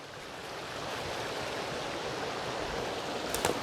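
A small waterfall on an uphill forest trail, steady broadband rushing of falling water holding even and fairly close throughout, with a couple of brief brighter splashes near the end and no voices.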